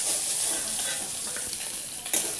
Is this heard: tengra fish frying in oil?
yes